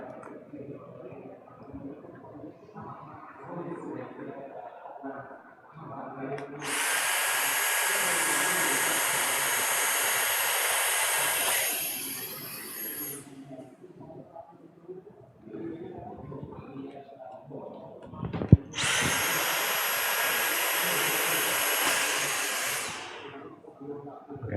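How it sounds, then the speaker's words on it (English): A loud, high-pitched whirring power tool runs for several seconds, stops, then runs again while removing sealed 250 by 250 modules from a panel in an outdoor broadcast room, with talking and handling noises in between. "we will use this big power tool to take out the"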